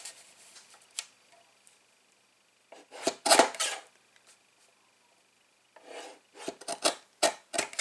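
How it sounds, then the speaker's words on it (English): Paper scraps for a Stampin' Up card are trimmed by hand, quiet close rasping slices in short clustered bursts separated by near-silent pauses. "I just need to trim that down a little bit more"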